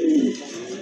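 A Danish pigeon gives a single low, throaty coo, close and clear, fading out over under a second with no talk.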